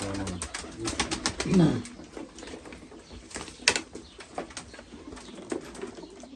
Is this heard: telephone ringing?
no